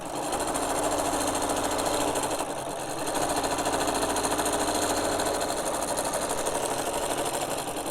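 A sewing machine top stitching a half-yard fabric tote bag: a steady, close, rapid mechanical whirring rattle that runs almost without a break for eight seconds, with no talking.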